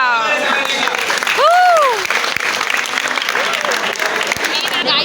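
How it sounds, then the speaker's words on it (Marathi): A group at an Engineer's Day outing claps for the team that won the treasure hunt: dense, continuous applause close by for several seconds, with voices and a brief rising whoop over the top. "टाळ्या."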